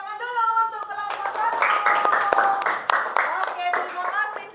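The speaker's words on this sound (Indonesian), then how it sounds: "Tepuk tangan dulu untuk kelompok" A classroom group of students claps for a presenting team, a ragged burst of hand claps building after a second and continuing under a speaking voice, close and moderately loud.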